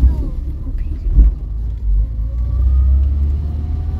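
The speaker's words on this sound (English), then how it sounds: "after that gearbox oil change, it certainly is still whiny" An old Vauxhall Viva under restoration drives along after a gearbox oil change, its low engine rumble steady and close, with a faint rising whine from the gearbox threading through.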